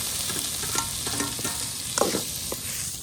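Onion and tomato frying in a pan, a continuous sizzle broken by repeated scraping and clinking strokes of a stirring spoon, close and fairly loud.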